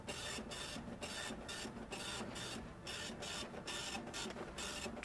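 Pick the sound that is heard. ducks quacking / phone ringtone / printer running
printer running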